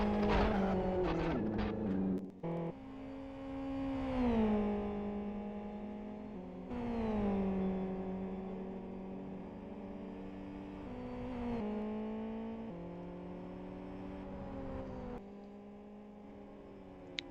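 Race car engine in the Live for Speed racing game, a 190-horsepower car running low wings, revs rising and falling through repeated gear shifts, loud and steady with sharp downshifts early on.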